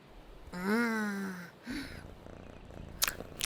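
A cartoon cat's vocal sound in an episode of the animated series Nussa and Rarra, a drawn-out tonal purr or meow lasting about a second, followed by a shorter call and then clicks and light talk.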